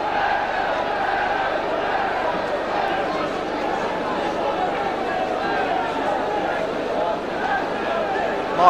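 Football crowd at Wrexham AFC versus Middlesbrough in 1999–2000 roars and murmurs in a continuous wash during a spell of home pressure, with a commentator talking over it.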